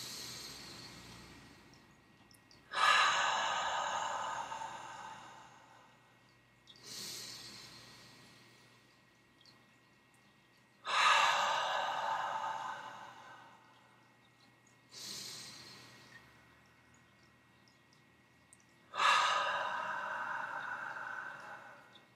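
A group breathing exercise unfolds as three slow, loud rounds of breath, each a long drawn inhale or exhale swelling and fading in a steady rhythm, close and clear over quiet room tone.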